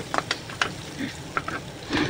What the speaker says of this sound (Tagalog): Lagay tayo mantika. Magigisa tayo ng Garlic.